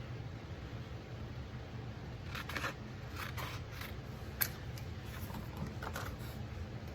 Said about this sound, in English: So I'm gonna cut the edge off just a little bit.